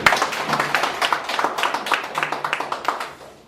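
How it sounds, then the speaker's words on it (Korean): Audience clapping at a corporate guest-speaker event, a modest round of scattered hand claps at close-to-mid distance, fairly light and uneven, lasting a few seconds without talk over it. "우리 한번 박수 한번 좀 부탁드리겠습니다"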